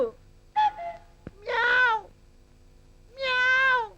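A cat meows three times, clear and close, each cry drawn out, with short quiet gaps between them.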